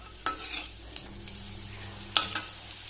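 Puris fry in oil over a low gas flame with a soft, steady sizzle. A few sharp scrapes and clinks of a utensil sound close by.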